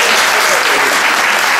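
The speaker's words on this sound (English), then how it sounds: "Give yourselves a round of applause" Loud, dense audience applause at a live comedy show opening, steady sustained clapping filling the room from start to finish with crowd voices mixed in.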